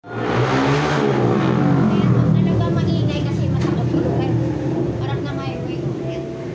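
Vehicles roar past steadily on a highway right in front of a roadside snack spot, a loud, continuous engine drone with passing swells, while people talk nearby.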